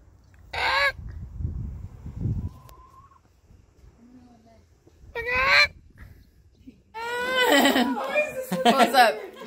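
Poultry honking in short, loud bursts near a tournament venue in Courcelles-sur-Seine, France, a few separate calls then a longer raucous cluster, with people chatting and laughing in between.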